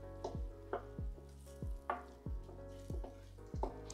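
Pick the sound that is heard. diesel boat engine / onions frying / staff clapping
onions frying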